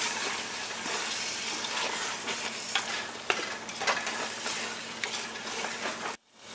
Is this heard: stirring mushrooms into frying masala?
yes